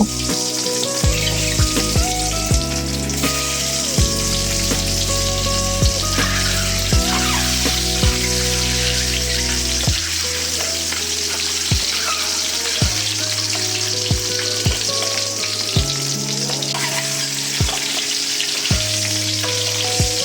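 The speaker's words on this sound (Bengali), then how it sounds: "আর ডিমগুলোকে আমি সামান্য লবণ এবং সামান্য একটু মরিচের গুঁড়া দিয়ে মেখে রেখেছিলাম এখন এগুলোকে তেলের উপরে হালকা করে একটু ভেজে নিব" Eggs seasoned with salt and chili powder fry in hot oil in a pan, giving a loud, steady sizzle that runs throughout, with faint clinks and scrapes of a utensil.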